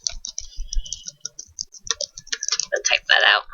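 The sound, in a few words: typing on a computer keyboard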